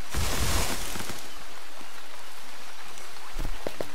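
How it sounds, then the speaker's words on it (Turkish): Small meteors rain down during a meteor shower in the game Starbound, a crackling, rain-like patter with denser bursts at the start and end and scattered lighter impacts between. "Küçük meteor düşüyor lan bu ne? Meteor yağmuru."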